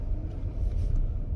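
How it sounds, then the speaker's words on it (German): A Toyota Prius hybrid car pulls away, heard from inside as a low, steady, muffled rumble with no distinct engine note. "indem ich mit dem Auto losfahre"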